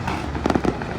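New Year fireworks crackle in the distance, a quick cluster of muffled pops and bursts over a steady background hum.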